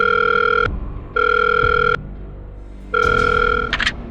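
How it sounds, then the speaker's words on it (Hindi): Electronic phone ringtone in a Hindi horror audio drama, three loud steady tonal rings with short gaps, the last ring cut off by a quick electronic chirp. "तभी करण ने अपना मोबाइल निकाला और अपने जानने वाले इंस्पेक्टर जनरल अरुण सक्सेना को फोन लगाकर कहा"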